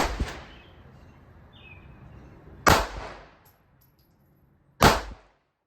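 Gunshots at an outdoor shooting range, three sharp, loud single reports spaced a few seconds apart, each with a short ringing tail, the gaps filled by a quiet background hush.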